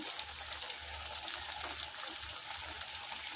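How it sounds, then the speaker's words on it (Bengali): Water trickles and pours softly into a pot of cooking chicken curry, a faint steady splashing stream with low background rumble and no voices. "এবার আমি জল অ্যাড করে দিচ্ছি।"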